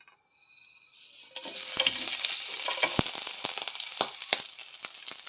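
Chopped ingredients for a Palakkad-style coriander chutney hit hot oil in a pan, starting from near quiet into a strong, steady sizzle with intermittent stirring clicks, no talking.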